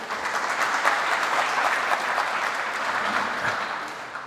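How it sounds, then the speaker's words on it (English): A conference audience applauds steadily, a broad wash of clapping hands that holds at an even level throughout. "So please give a big round of applause for Akira Moroo."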